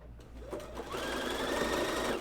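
A sewing machine stitching fabric for women's underwear, a steady fast mechanical whir that starts after a brief pause and runs continuously, close and fairly loud.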